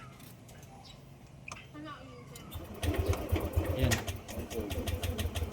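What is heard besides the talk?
Yamaha NMAX scooter engine struggling to start and idle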